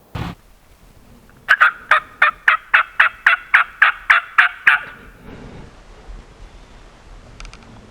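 A wild turkey gobbler in the woods lets out a loud, close gobble: a rapid run of about a dozen sharp rattling pulses, then quiet forest ambience.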